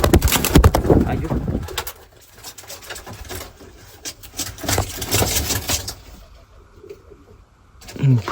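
A young pigeon coos softly at close range in a few low, throaty bursts, with a steady mechanical hum and some handling noise around it.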